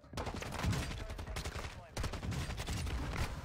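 Rapid automatic gunfire in Call of Duty Warzone, dense bursts of shots running almost continuously with a brief break near the middle, loud and close with game noise around it.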